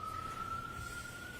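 A siren passes outside a courtroom, a single steady wailing tone held faint but continuous over low background rumble, with no one talking.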